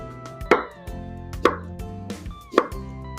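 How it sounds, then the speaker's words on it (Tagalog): A kitchen knife chops ginger finely on a board, giving three distinct, crisp thuds spaced about a second apart over a steady background hum. "Hihiwain ko lang din to ng pino."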